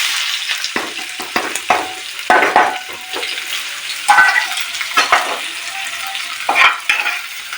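Chopped onions fry in hot white oil in a frying pan, sizzling up close while a utensil stirs and scrapes in short, irregular bursts.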